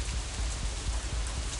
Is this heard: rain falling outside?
yes